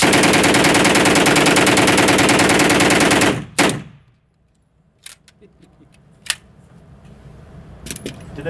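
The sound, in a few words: MAT-49 submachine gun firing a full magazine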